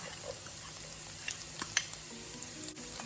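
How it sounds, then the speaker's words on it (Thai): Garlic, spring onion and coriander root stir-fry over low heat in a pan, a soft steady sizzle with a few light scrapes and clinks of the spatula, close and fairly quiet. "ใส่กระเทียมลงไปผัดแล้วก็จะใส่ ต้นหอมและรากผักชีลงไปค่ะ"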